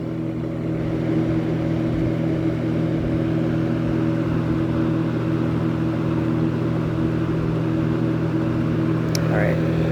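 A GWS General-Aire 20-inch box fan runs on its high setting, giving a steady loud whooshing drone with a low motor hum that holds even and unbroken throughout, recorded up close.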